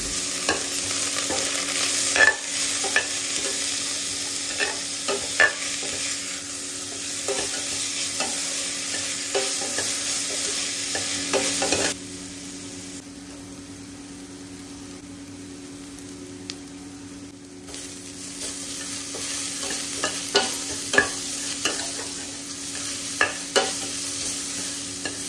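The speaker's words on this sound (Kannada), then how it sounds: "ಈರುಳ್ಳಿ, ಹಸಿಮೆಣಸಿನ್ಕಾಯಿ, ಕರಿ ಲೀವ್ಸು, ಉಪ್ಪು, ಹಳದಿ ಇದನ್ನೆಲ್ಲ ಹಾಕಿಬಿಟ್ಟು ಒಂದ್ಸಲ ಮಿಕ್ಸ್ ಮಾಡ್ಕೊಳ್ತೀನಿ ಚೆನ್ನಾಗಿ" Onion, green chilli, curry leaves, salt and turmeric fry in a pan with a soft sizzle while a spoon stirs and scrapes in short, repeated strokes. The frying quiets for a stretch midway before resuming.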